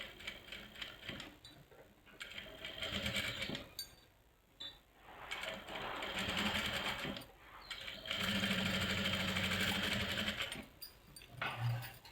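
A sewing machine stitches close along a frock neckline in bursts of steady mechanical whirring, pausing and restarting several times, near and fairly loud with no talk.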